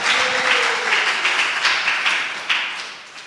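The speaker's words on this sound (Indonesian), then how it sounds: "Tepuk tangan dulu." Church congregation clapping during a sermon, a broad steady wash of applause with a few sharper bursts, fading toward the end.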